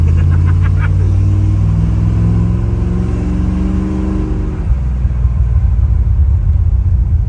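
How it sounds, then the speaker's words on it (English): The big-block 400 V8 in an old Dodge pickup rumbles steadily from inside the cab while driving, a deep, loud drone that climbs under acceleration and then settles into a lower throb. "This is cool to be driving something with a big block."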